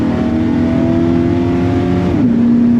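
An LS V8 engine in a Chevy C10 pickup truck revving hard and holding a deep throaty roar, pitch sliding down near the end, loud and close with no voices.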